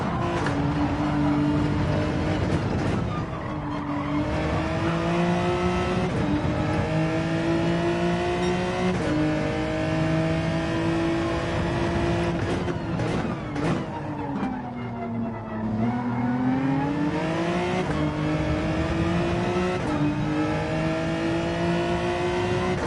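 Gr3 race car engines at Suzuka in Gran Turismo 7, a loud continuous engine drone with rising and falling pitch as the car shifts and accelerates, filling the whole clip with no talk.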